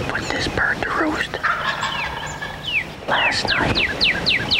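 Wild turkey gobbling in an open field about 150 yards off, with several rapid rattling gobbles that carry clearly above an outdoor background and grow louder toward the end.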